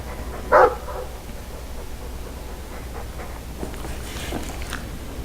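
A Mabari war dog in the video game Dragon Age 2 lets out one loud, close bark, followed by quieter snuffling and faint whimpering sounds over low ambient game noise.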